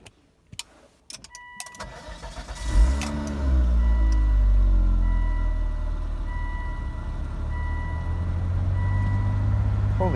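A 2003 Volvo XC90 cranks after a few clicks and faint noises, catches and starts, then settles into a loud, steady idle with some revving, running close by with no talk over it.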